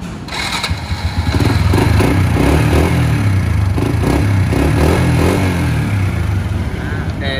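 A 2008 Honda Wave RS motorcycle with a two-tier front fairing idles with a steady, close engine putter that firms up after the first second, with occasional clatter, and no talk over it.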